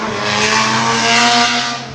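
Drift cars at a Driftkings twin battles practice session, engines screaming loud and close with sustained tyre squeal throughout, fading slightly at the end, no voices audible.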